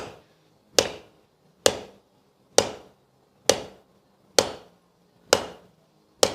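A hammer strikes a railroad spike at a steady, slow pace, eight loud, sharp metallic blows about a second apart, each ringing briefly before the next.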